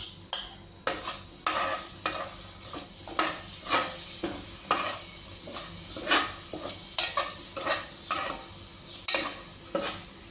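Leftover chicken sizzles frying in a pan, with repeated scraping strokes of a spatula stirring it at a steady rhythm; no voices.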